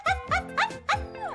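A hypnotized girl imitates a dog with a quick series of four or five sharp, close barking yelps in a voice, no other talk.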